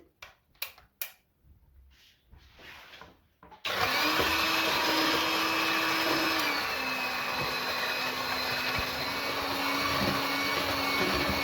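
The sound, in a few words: Moulinex electric hand mixer beating eggs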